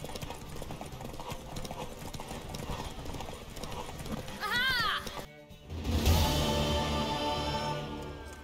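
Horse hooves gallop in a steady clip-clop rhythm during a horse race in The Witcher 3, with a whinny partway through. A man calls out over the hoofbeats, and a sudden swell follows near the end.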